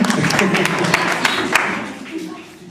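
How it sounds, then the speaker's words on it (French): A church audience applauds a manager after a youth sketch, with a burst of clapping and scattered sharp claps beneath chatter, fading toward the end. "On peut applaudir le gérant, s'il vous plaît"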